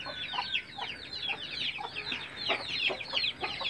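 Desi Aseel hen at a breeding setup in Khairpur, Sindh, clucking in a steady rapid series of close, fairly loud calls over a constant background hum, no talk.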